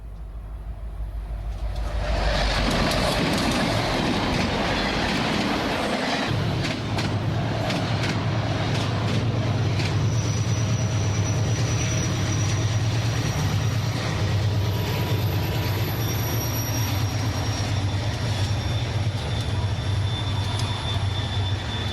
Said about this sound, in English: The NPST, with the help of the 1944 steamer, got underway